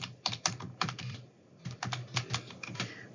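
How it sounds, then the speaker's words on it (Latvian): Someone typing a password on a computer keyboard, rapid clicking keystrokes in two bursts with a short pause between, close and fairly quiet, no voices. "jūs divas reizes rakstat vienādu paroli"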